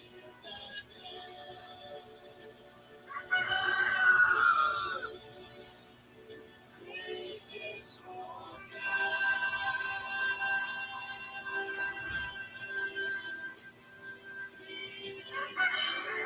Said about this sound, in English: I don't know if you can hear that rooster.